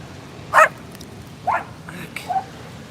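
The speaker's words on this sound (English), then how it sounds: "He's 13 pounds, which is like 8 pounds of dog and 5 pounds of bark." A small dog of about thirteen pounds barks three times, sharp and fairly near, with short gaps between the barks over a quiet background.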